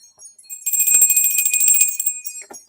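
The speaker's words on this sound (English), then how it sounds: "I hadn't rung the bell." A small bell rung during a live tarot and oracle reading gives a bright, high, shimmering ring that sustains for about a second and a half and then fades, close and alone.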